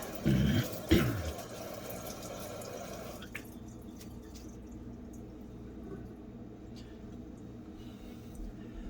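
Water runs and splashes while acid is rinsed off a Super Freek piece after etching, a louder gush at first that then settles into a quieter steady trickle with scattered drips and a faint background hum.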